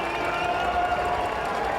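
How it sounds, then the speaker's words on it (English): Crowd at a baseball game in Orlando roars as a favorite player comes in, a steady, dense wall of cheering and noise held at an even level throughout. "Dennis Chin will get a big roar from the crowd"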